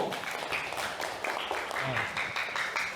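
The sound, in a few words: applause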